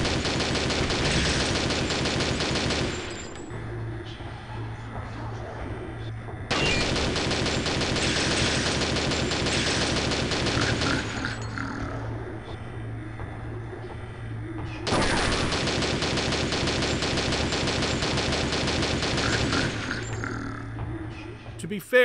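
Gunfire from the first-person shooter Shogo: Mobile Armor Division during a boss fight, coming in long dense bursts of continuous shooting with short lulls between them, loud and sustained, with game sounds beneath.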